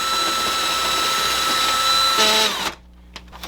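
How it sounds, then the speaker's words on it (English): A power drill whines loudly and steadily as it bores a hole through rabbit feeder panels, then cuts off abruptly, leaving near-quiet with a few light clicks. "I'm going to drill a hole."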